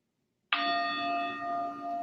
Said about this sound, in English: there's our bell to get us started